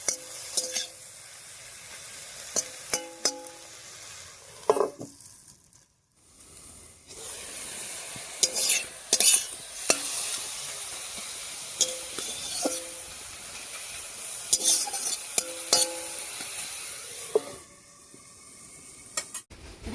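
Red amaranth greens with turmeric and salt stirred in a pan in a village-style kitchen, steady sizzling and frying hiss broken by repeated scraping and clinking stir strokes, close and moderately loud, with no talking.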